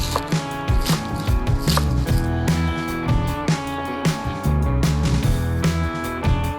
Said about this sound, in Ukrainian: далі нарізаємо зелень. Зелена цибулька.